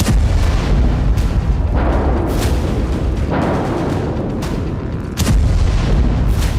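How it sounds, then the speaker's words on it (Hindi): Artillery and tank shelling in Gaza during an Israeli ground operation: several heavy booms at irregular intervals over a continuous loud rumble, with no voices. "इजराइल की फोर्स गाजा के अस्पतालों से लेकर मस्जिदों और स्कूलों पर भी बम बरसा रही है"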